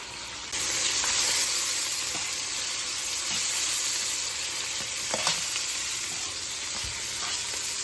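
Oxtail browning in a pot, a loud continuous close sizzle and crackle of hot fat with a few faint clinks, no talking over it.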